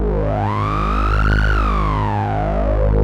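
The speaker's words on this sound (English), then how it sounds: "But when you bring it all the way with high resonance, it really screams." Korg Wavestate synthesizer playing a sustained tone with filter resonance turned all the way up, a loud buzzy note whose sharp resonant peak sweeps upward into a piercing scream and then falls back down.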